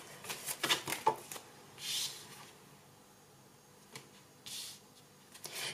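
Oracle cards are shuffled and drawn in a quiet room: a few close, crisp riffling bursts and soft slides, separated by short pauses of near silence.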